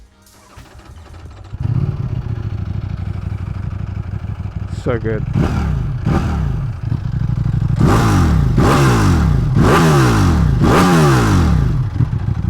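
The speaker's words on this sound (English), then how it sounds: "let's do an exhaust sound." A Ducati Panigale V4 S sport motorcycle with its factory exhaust idles with a loud exhaust rumble, then revs sharply several times in quick succession, close by; a voice speaks briefly.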